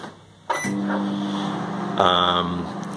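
A microwave oven is started with a Sistema rice cooker inside. Button beeps and a click come first, then a steady low hum sets in, and a louder whirring layer joins partway through.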